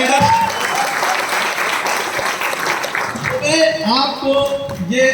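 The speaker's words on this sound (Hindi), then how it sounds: "जोरदार ताली होनी चाहिए।" Loud, steady applause from a crowd at a business event in a banquet hall in Ranchi fills the first few seconds, then fades as a voice starts talking over the last of the clapping.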